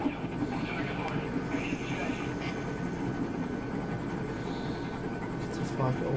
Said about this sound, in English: That chopper is looking.